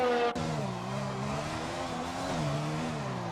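F1 race car in an esports sim race, engine droning with steady harmonic pitch after a sharp opening burst, rising slightly near the end as the Haas car loses control on track.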